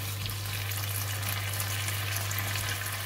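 Kailan with salted fish, oyster sauce and sugar sizzles in a pan as it is stir-fried. The frying hiss stays even and close over a low steady hum, with no talk.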